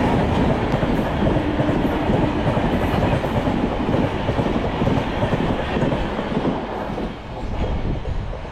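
The Howrah-bound Agniveena Express thunders past at speed behind a WAP 5 electric locomotive, a loud, continuous roar of wheels and carriages with steady rhythmic clatter filling the whole span.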